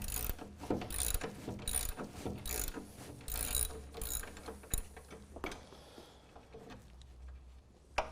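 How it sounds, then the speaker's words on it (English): Hand tool unbolting brake line brackets on a truck being fitted with a lowering notch kit: repeated close ratcheting clicks in bursts, with metallic knocks and clanks between them and no talk. "So we're going to unbolt these so that we can relocate it once we put our notch kit in."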